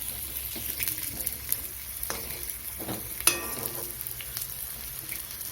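Groundnut cutlet frying in oil in a pan, a soft continuous sizzle broken by a few scrapes and clicks as it is stirred and flipped.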